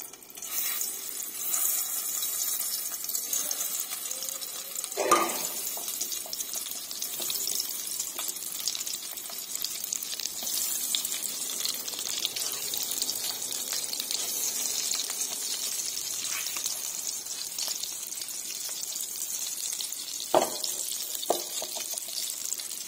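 An egg frying in a pan for egg curry, a soft steady sizzle close by, broken by a couple of brief clatters of a utensil against the pan.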